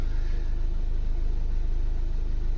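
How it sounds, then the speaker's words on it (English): A VW Tiguan 2.0 TDI diesel engine, which has a misfire issue, runs at a steady idle, giving a close, even, low rumble with a constant pulsing hum and no talking. "But the engine is running perfect."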